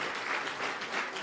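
Audience applause at a luncheon for Shabana FC at Bomas, a dense, steady burst of clapping from a crowd, loud and close throughout the short stretch.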